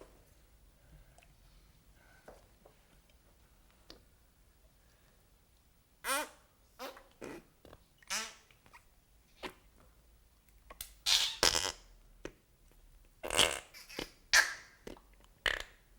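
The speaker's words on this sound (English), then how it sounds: "Let's try a little fart symphony." Homemade super slime pushed and squeezed to make fart noises: after a quiet start, a series of short, wet, squelchy bursts comes close and loud, growing denser and more forceful in the second half.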